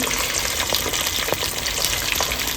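Food sizzling and frying steadily in a pan while tiffin is cooked slowly, a dense continuous crackle with faint scrapes of stirring and no voices.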